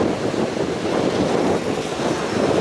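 Strong wind blows at sea by the shore near anchored fishing boats in Tuy Phong, Bình Thuận, a loud, continuous roar buffeting the microphone with surging gusts.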